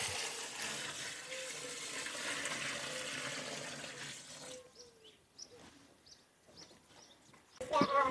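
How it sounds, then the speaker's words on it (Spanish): Water is poured onto freshly cut nettles for a nettle-based garden preparation, a steady splashing and gurgling stream that cuts off abruptly, followed by quieter trickles and drips. "Vamos a echarle el agua."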